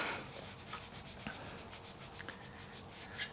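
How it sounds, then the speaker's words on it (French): Eraser rubbing back and forth on paper, a quiet, close scratchy scrubbing in quick repeated strokes, with no voices. "J'essaie de gommer sans vous faire bouger dans tous les sens."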